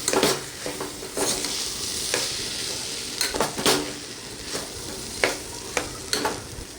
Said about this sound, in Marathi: आपण स्वच्छ धुवून घेतलेले तांदूळ त्या ह्याच्यामध्ये ॲड करायचे आहेत आणि हे सगळं मिक्स करून घ्यायचं आहे व्यवस्थित